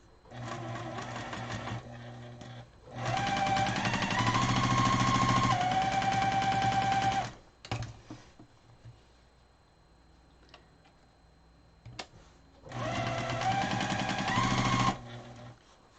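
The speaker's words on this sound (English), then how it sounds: "Now we're going to sew this right sides together." Sewing machine stitching a quilt block coaster, two loud bursts of rapid mechanical chatter several seconds long separated by a quiet pause, with a shorter third run near the end.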